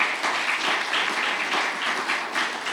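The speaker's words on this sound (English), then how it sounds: "Clark, Atlanta, let's get them a round of applause" Sustained applause from a conference audience at a national network convening, many hands clapping steadily and fairly close with no voices over it.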